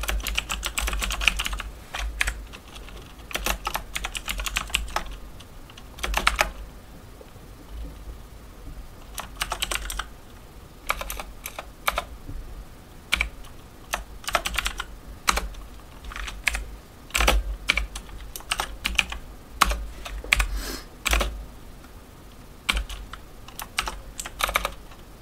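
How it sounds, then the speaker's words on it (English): Typing on a computer keyboard to enter a MySQL command: close, crisp key clicks in uneven bursts and short runs, broken by brief pauses, with no one talking. "I'm going to type out this whole command"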